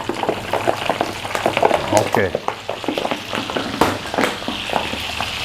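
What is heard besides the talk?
shrimp frying in hot oil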